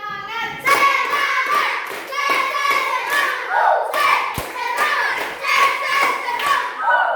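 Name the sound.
class doing rhythmic spirit claps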